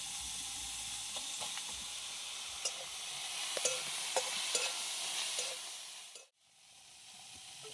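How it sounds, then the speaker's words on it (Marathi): Onions sizzle steadily in hot oil in a kadhai, a soft continuous frying hiss with occasional pops and stirring clinks, fading briefly near the end. "कांदा आता धुवून घेतला जरा पाण्यात आता कढईत टाकते"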